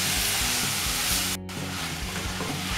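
Brazilian linguiça sausage sizzles steadily in a pan with seedless chopped peppers and a pinch of salt, a dense, loud frying hiss with a brief break partway through.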